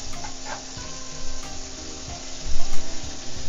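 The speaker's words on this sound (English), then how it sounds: "And I'll go ahead and fry that." Sliced sausage fries in a pan with a steady close sizzle, punctuated by occasional scrapes and soft knocks as the pieces are moved, growing a little louder near the end.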